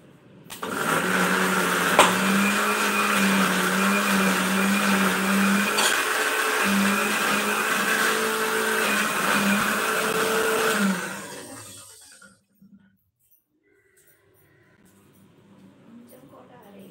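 Mixer grinder whirring loudly as it grinds coriander into paste, a steady motor drone for about ten seconds that then winds down and stops, followed by faint kitchen sounds.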